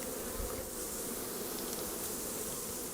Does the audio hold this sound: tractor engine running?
no